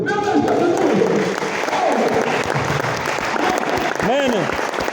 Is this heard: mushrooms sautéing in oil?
no